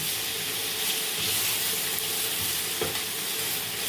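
Bottle gourd leaves frying in hot oil, giving a dense, steady close sizzle with a few soft stirring scrapes and no talk.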